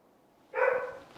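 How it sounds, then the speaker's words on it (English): A dog gives a single short bark, moderately loud against a quiet background, in the midst of a golf swing. "Nice little bark in the middle of the backswing there"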